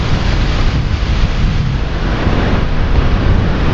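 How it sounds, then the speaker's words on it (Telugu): Magod waterfall in dense, spray-soaked forest gives a loud, unbroken roar of rushing water that fills the scene, with a rough, wind-buffeted texture and no voices. "Water fall."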